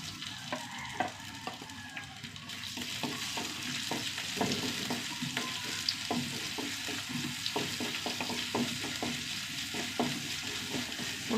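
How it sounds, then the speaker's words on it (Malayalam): Crushed small shallots fry in hot oil with fenugreek seeds, a steady close sizzle broken by frequent sharp crackles and pops, with occasional stirring scrapes and no talking. "ഉള്ളി ഒന്ന് മൂത്ത് തട്ടെ."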